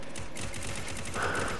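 Rapid automatic gunfire rattles in fast, even bursts during a Free Fire match, loud and continuous across the moment.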